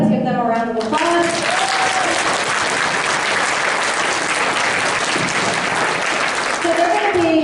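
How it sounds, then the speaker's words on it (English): An audience at a school orientation claps for the peer mentors, a dense, steady burst of applause filling the room for several seconds, with a speaker's voice briefly heard at the start and end. "Let's give them a round of applause."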